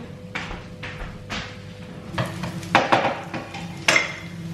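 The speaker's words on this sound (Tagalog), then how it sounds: "Gigisa natin." A home cook sautés aromatics in a pan, with a faint sizzle under scraping and clinking as a utensil stirs against the metal, several sharp knocks near the end, close and moderately quiet.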